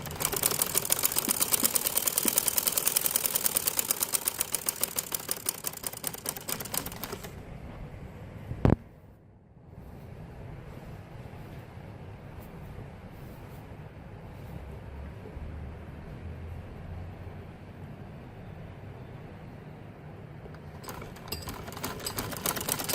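A sewing machine stitching fabric for men's Bermuda shorts: fast, steady stitching at the start, then a short pause with a low hum, and the stitching starts again at the end.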